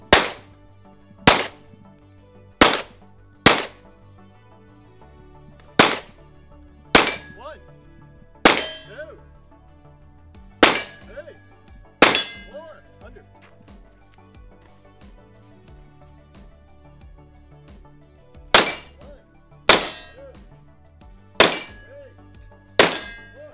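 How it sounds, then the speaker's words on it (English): Gunshots ringing off steel targets at a shooting match barricade: a long run of sharp, loud metallic clangs, each ringing out briefly. They come in irregular clusters with a longer pause partway through, and no one speaks. "on this barricade, you engage all steel targets from each of the 3 positions"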